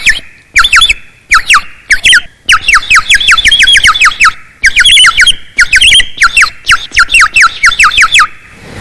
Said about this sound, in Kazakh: Қазақтың тағы бір аспабы бұл құс сайрауық деп аталады.